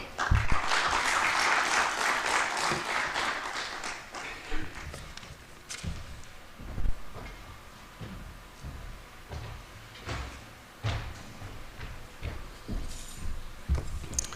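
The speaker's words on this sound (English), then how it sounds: "I thought that was a rather muffled round of applause" At a technology and security symposium, a muffled round of applause fills the hall for about four seconds, then thins to scattered claps, soft thuds and shuffling movement for the rest of the stretch.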